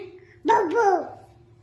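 A voice imitates a dog's bark with a single drawn-out, wavering woof, close and clear, after a brief quiet pause.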